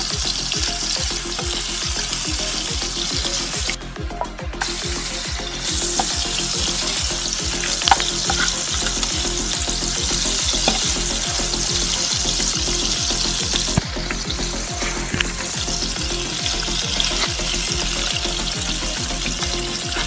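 Butter melting and sizzling in a pan while making a homemade pan pizza, a steady continuous frying hiss with a quick rhythmic ticking pulse throughout, fairly loud and close, no talking.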